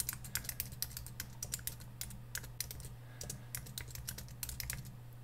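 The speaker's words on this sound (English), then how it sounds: "all you need to do is just type out your own text." Typing on a computer keyboard while working in Photoshop's Type Tool: quiet, rapid key clicks in uneven bursts with short pauses, close up, over a faint steady hum and no speech.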